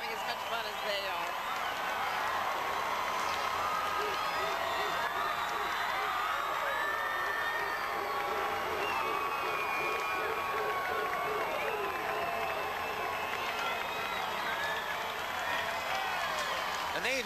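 Crowd lining a Seattle Seafair torchlight parade route in 1991 cheers, whoops and claps steadily as Navy units march past, a dense continuous roar of voices and applause throughout.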